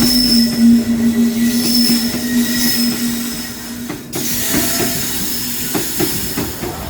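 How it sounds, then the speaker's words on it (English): A freight train hauled by a WAG-9 electric locomotive passes close by on Indian railway track, a loud continuous rumble of wagons with a sustained metallic wheel squeal, hissing and occasional clanks, with no voices. "A freight train crossed us here, powered by a Wagnine locomotive."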